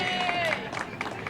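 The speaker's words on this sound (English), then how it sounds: "You can clap, you can clap." Audience applause at a Latin American community center open house, a dense wash of many hands clapping with faint crowd murmur and a whistle-like tone early on, filling the short stretch at steady moderate loudness.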